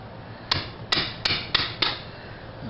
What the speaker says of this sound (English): I'm going to have to tap it a little bit with this hammer.